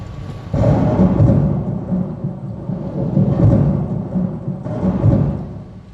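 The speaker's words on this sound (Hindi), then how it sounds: "या अल्लाह खैर करियो, ये तूफान तो जोर ही पकड़ता जा रहा।" Staged thunderstorm effect in a theatre play: heavy rolling thunder surges in loud waves with rain-like hiss, building, easing and swelling again, with no talk over it.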